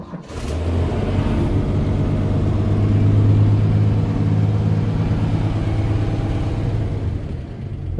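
A Land Rover fitted with a transplanted 3.3-litre Holden Commodore engine and a repaired exhaust cranks and fires, then idles loudly and steadily nearby with a deep, even drone for several seconds.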